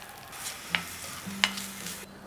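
Grated coconut stirred into sautéed tamarind in a hot pan for coriander chutney, giving a soft continuous scrape and sizzle with two sharp utensil clacks, close and quiet, no voices.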